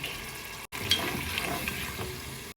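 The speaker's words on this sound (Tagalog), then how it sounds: "Lagyan natin ng konting tubig." Water poured into a hot pan holding vinegar, pepper and oyster sauce for adobong kangkong sets off a loud, steady sizzling hiss, briefly cut by two short gaps.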